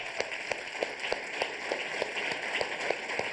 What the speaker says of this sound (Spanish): ¡Qué aplauso, pues!